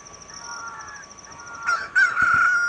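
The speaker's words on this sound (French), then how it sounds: "Du coup, on va entendre 3 cocoricos." A rooster crows in The Legend of Zelda: Ocarina of Time, a loud drawn-out electronic cock-a-doodle-doo rising over a soft game music tone, with a second crow following closely.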